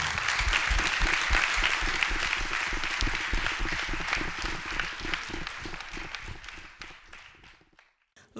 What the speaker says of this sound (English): let us put a very loud applause